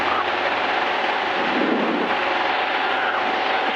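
The 118-horsepower engine of a Zenith CH 750 Cruzer light airplane drones steadily in flight, a loud broadband roar heard from inside the cabin, with no talking.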